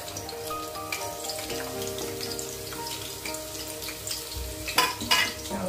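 Onion frying in oil in a pan for a Malvani-style crab curry, a continuous close crackling sizzle with a few louder spattering bursts toward the end.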